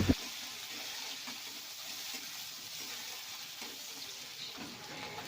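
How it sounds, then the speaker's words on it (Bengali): Sliced onion frying in oil with a broken dried red chili, a soft, steady sizzle with occasional light stirring scrapes and a brief knock at the start, fairly quiet and without talking. "পেঁয়াজটা উল্টে পাল্টে হালকা লালচে করে ভেজে নেব।"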